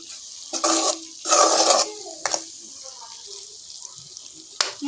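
Prawn roast being stirred in a pan, with bursts of scraping and wet mixing, a few sharp clatters of a spoon against the pan and short gaps between, close by with faint sizzling underneath.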